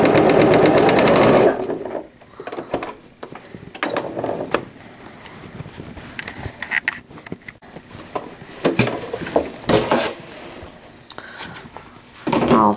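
Domestic sewing machine back-stitching the edge of layered fabric for an all-in-one cloth diaper: a loud motor run at the start, then short stop-start bursts and clicks of stitching at close range, with no talk.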